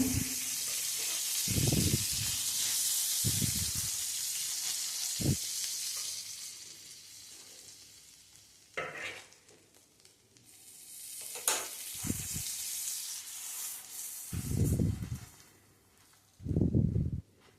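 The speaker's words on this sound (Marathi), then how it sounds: "आणि हे चांगले खमंग भाजून घेऊ" Butter-toasted pav bread sizzles on a hot pan for chatpata masala pav, a steady frying hiss broken by several short bursts of stirring and scraping as the buns are turned and pressed.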